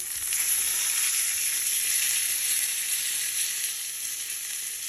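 A sirloin steak sizzles loudly in a hot pan with a bright, steady hiss that swells early and stays constant, close by and without talk.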